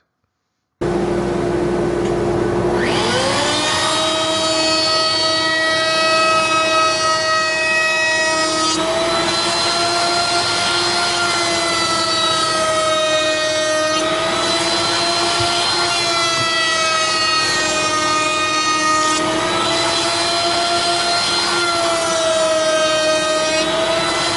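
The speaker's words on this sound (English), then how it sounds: "So I set that up in the router table, and again, I'm going to typically do this at least in a couple of passes" A router table cuts a profile into wood for a jewelry box, a loud sustained high-pitched whine that starts after a brief silence and pitches down as the bit bites the stock, with several passes running steadily.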